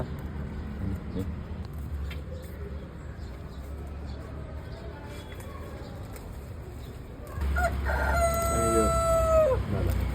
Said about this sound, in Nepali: यो चाहिँ मैले कुखुरा पालेको छ